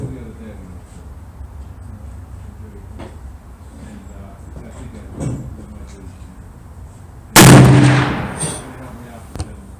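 A single loud, close gunshot from a Smith and Wesson 460 Magnum XVR revolver at a shooting range, a sharp blast with a decaying tail, preceded by quiet background and faint talk.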